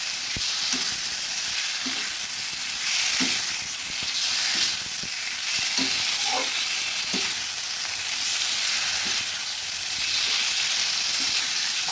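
Potatoes, capsicum and other vegetables frying in masala give a steady loud sizzle. Repeated scrapes and clinks of stirring run through it, and no one speaks.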